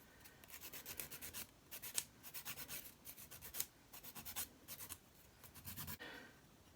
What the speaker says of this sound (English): next I'm just going to file my nails so they're not shiny.